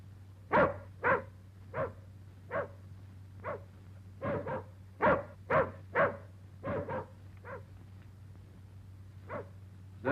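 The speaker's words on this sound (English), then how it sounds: "Is that your dog outside?" A dog barks repeatedly outside, about a dozen sharp barks in irregular bursts, moderately distant over a low steady hum.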